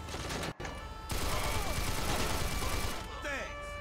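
Gunfire in GTA 5 during an army patrol mission, dense bursts of rapid shots layered into a continuous loud crackling fusillade with a short gap, then sustained firing and some chirping effects at the end.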